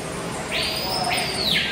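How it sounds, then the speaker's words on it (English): A bird at an aquarium lets out a loud, close, drawn-out screech of about one second, rising sharply and holding a harsh shrill tone over a low background murmur. "That bird screamed right next to my ear, the one you keep hearing."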